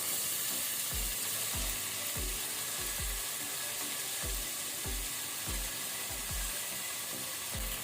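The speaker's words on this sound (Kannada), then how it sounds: "ಈಗ ತುಪ್ಪ ಬಿಸಿಯಾದ ನಂತರ ಆನಿಯನ್ ಈರುಳ್ಳಿ ಹಾಕೊಳ್ಳುವ" Onions frying in hot ghee and oil in a pressure cooker, a constant loud sizzle with a spoon knocking against the pot in a regular rhythm, no voices.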